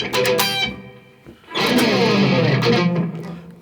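Electric guitar with distortion plays the opening of a song: choppy percussive muted hits, a brief pause, then a loud sustained driven riff, close and alone.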